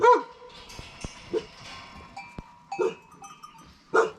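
Goats and sheep bleat in short separate calls on a Turkish farm, with a bell clinking and a few sharp knocks between them, while dogs stand nearby; the calls come close and fairly loud, several seconds apart.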